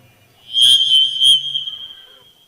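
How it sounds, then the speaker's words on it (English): A shrill whistle sounds at a powwow, one sustained piercing blast with a couple of brief pulses near the start, loud and close, then tapering off into quiet. "We got a whistle."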